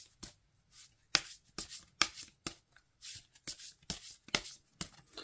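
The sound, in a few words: oracle cards being shuffled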